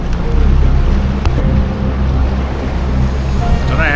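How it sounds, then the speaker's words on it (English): A boat motor runs loud and steady up close, a constant low rumble mixed with wind and water noise, with a few faint clicks on top. "I don't know how much you can hear me over the boat motor"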